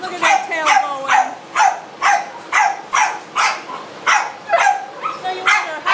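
A dog in an animal shelter barks repeatedly from close by, about a dozen sharp yips in a steady rhythm that stays loud and clear throughout.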